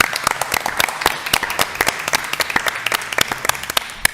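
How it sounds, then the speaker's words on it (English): Applause at a planning board meeting: a modest group claps with distinct, fairly close individual hand strikes, a brisk uneven patter held at steady strength for about four seconds. "Let's give them a round of applause."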